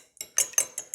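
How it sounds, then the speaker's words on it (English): A fork whisks an egg in a bowl for keto chaffle batter, with five quick, sharp clinking strokes in a brisk rhythm, close and clear. "I'm going to beat the egg"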